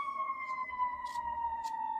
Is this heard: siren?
yes